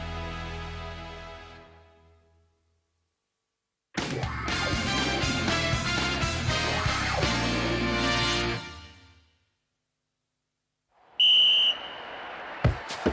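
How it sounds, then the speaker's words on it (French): After a burst of busy music fades, a referee's single sharp, shrill kick-off whistle blast rings out in an animated football match, bright and piercing, followed by a faint hiss. "L'arbitre siffle le coup d'envoi."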